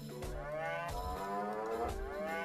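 A cow lows repeatedly in South Park: The Stick of Truth, a farm animal's drawn-out, harmonic moos rising and falling in several loud, close calls with no talk over them.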